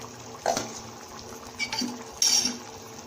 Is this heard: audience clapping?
no